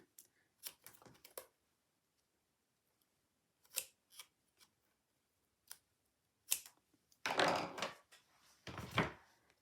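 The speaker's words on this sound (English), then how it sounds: "I'm going to flip that over and cut some foam" Scissors snip through craft foam in several short, crisp bursts separated by quiet pauses, with louder, longer cutting strokes toward the end, close and clear on a quiet tabletop.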